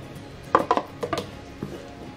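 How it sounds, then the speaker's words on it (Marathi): A spoon scrapes and knocks around a pan while flour is stirred in for modak dough, a short burst of close metallic clinks and scraping taps over about a second, then one softer knock. "एका हातामध्ये असा एखादा चमचा घ्यायचा आणि त्याच्याने पीठ असं टाकून हलवायचे लगेच आपल्याला।"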